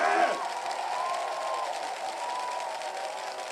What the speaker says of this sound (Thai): เราปรบมือดังๆยาวๆนานๆต้อนรับทุกฝ่ายมาร่วมจัดการประยุทธ์จันทร์โอชา